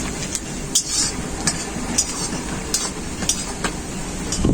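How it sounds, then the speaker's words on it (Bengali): Onions frying in oil for a fish korma give a steady close sizzle, broken by regular sharp clinks of a spoon stirring against the pan, with no talking. "পেঁয়াজগুলোকে খুব ভালো করে ভাজতে থাকবো"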